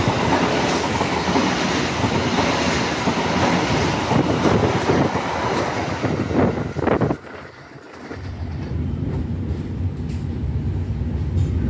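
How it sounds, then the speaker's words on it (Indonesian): A train passes close by on the adjacent track while riding the Matarmaja train, a loud rushing roar with rhythmic wheel clatter that cuts off abruptly, leaving the quieter hum of the moving carriage. "artinya kita akan bersilang dengan sebuah kereta"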